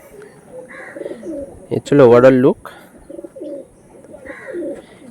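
Andhra pigeons coo softly nearby in low, rolling phrases, with one louder burst of calls in the middle, while someone talks over them.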